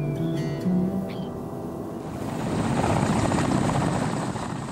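A helicopter flies over the tundra near Yar Saleh on the Yamal Peninsula, its steady rotor thump and engine roar growing louder and closer, after some brief faint tones at the start.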